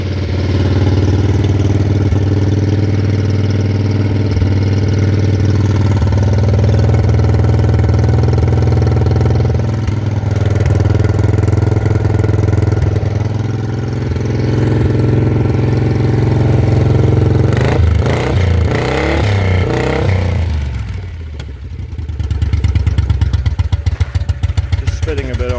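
Moto Guzzi Eldorado motorcycle engine idling with one left-hand cylinder spitting, a steady loud low rumble running throughout, with a brief dip and some irregular popping near the end.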